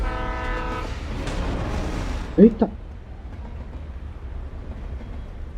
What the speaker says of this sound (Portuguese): O trem passando.